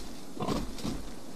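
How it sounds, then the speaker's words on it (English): A giant pig in the video game Castlevania: Lords of Shadow lets out a loud, close, drawn-out grunting squeal in a couple of swells, with no talking over it. "Giant pig is coming."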